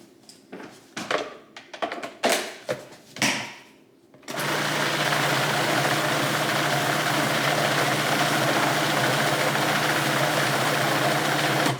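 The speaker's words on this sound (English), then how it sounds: "we're going to add our walnuts and pulse them in too. 1 more pulsing." A food processor chops walnuts for a meatless loaf, first a series of short pulses with clatter, then one long continuous whirring run that holds steady and loud to the end.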